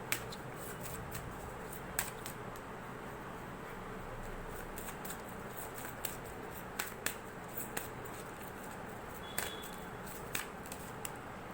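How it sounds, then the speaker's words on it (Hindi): Tarot cards being shuffled by hand, a soft continuous riffle with sharper snaps and flicks at irregular intervals, close and fairly quiet, with no talking. "जब तक मैं शफलिंग कर रही हूँ गाइस"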